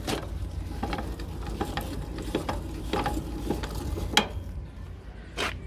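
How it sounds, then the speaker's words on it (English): Hand crank turned in the socket of a van's corner stabilizer leg to wind it down, a run of light mechanical clicks and ratcheting ticks at an uneven pace, close by, ending with a couple of sharper knocks. "You grab the handle and you wind it down."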